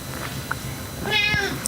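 A single close cat meow, rising and drawn out near the end of the moment, over a faint background hum with a couple of small clicks before it.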